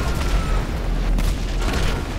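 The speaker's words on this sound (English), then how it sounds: "Expanded and enhanced explosions." A loud, dense rumbling blast with crackling debris noise, sustained and booming throughout, like a game explosion in GTA Online.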